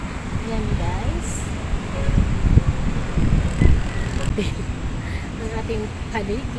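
Wind gusts buffeting the microphone outdoors in Bohol, a low rumbling rush that swells and fades, with faint ambient sounds in the background.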